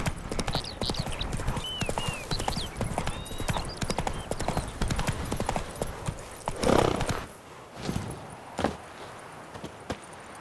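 Roach, the horse in The Witcher 3 video game, trotting with a rapid run of clip-clop hoofbeats, then slowing to a few scattered steps, with brief speech in between.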